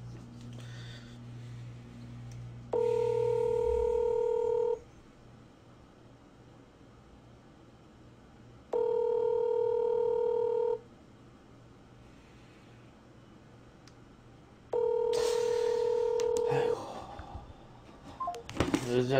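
Ringback tone on an outgoing phone call, three evenly spaced two-second rings separated by about four seconds of quiet, heard over a low steady hum, with a clatter at the end.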